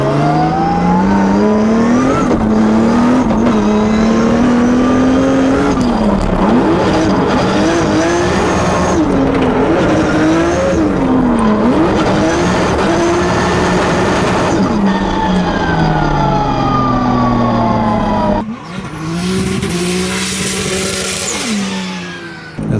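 A turbocharged drift competition car running without nitrous, its engine loud and close, revving up and down through gear changes with sustained tire squeal during slides, ending in a louder rushing burst.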